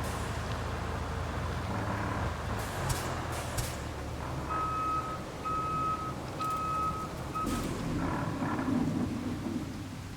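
A heavy truck in the RoadCraft video game reverses into a garage: an evenly spaced reversing beep sounds four times over a rumbling engine, while a thunderstorm with rain rolls in the background.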